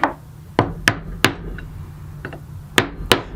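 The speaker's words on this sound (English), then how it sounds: "Now I can just tap the buff rake in place" Someone taps a buff rake head onto a wooden handle with sharp, close knocks, about seven hits in irregular rhythm with brief quiet gaps between them.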